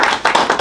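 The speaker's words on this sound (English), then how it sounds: "You can applaud for him, please." Audience applauding the PBA president at a New Jersey public meeting; a short, steady burst of hand clapping from a group, fairly loud and without talk.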